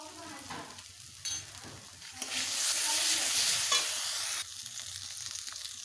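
A spoon stirs spicy egg curry masala with whisked yogurt as it fries in a pan, giving close, steady sizzling that swells into a louder burst for a couple of seconds, with light scraping strokes throughout.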